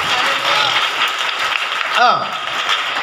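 A congregation applauds during a Hindi church sermon on baptism, a dense, steady wash of clapping lasting about three seconds, with a voice rising briefly above it.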